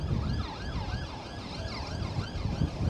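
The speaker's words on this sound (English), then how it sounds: "Oh, I can hear sirens, folks." Emergency sirens wail during Storm Agnes in Blackpool, their rising and falling tones repeating steadily over a constant low rumble of wind and traffic, moderately distant.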